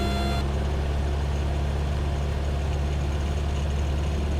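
A Cessna 172R single-engine plane at full power on its takeoff roll gives a loud, steady, droning engine roar with a strong low hum that holds constant throughout, with no speech.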